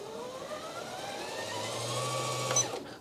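Janome Skyline S9 sewing machine running on its own to wind a bobbin, a steady close motor whir with a low hum that rises slightly, then cuts off near the end.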